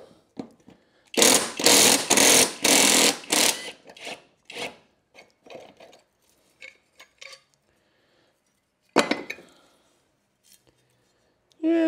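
Power tool, likely an impact wrench, spinning off a 5/8-inch blade bolt on a salvaged Toro Recycler lawn mower: several loud close rattling bursts in quick succession, then scattered clanks of handling and a later single burst.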